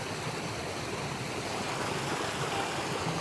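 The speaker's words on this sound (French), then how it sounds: "On a trouvé la cascade." A waterfall in Myanmar near banana fields pours in a steady, dense roar of rushing water that fills the whole stretch, with no voices.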